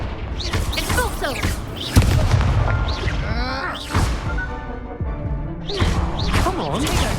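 Expulso and Confringo spells in Hogwarts Legacy go off as sharp, repeated blasts and crashes amid a frantic duel, with several loud impacts under shouting voices and game music.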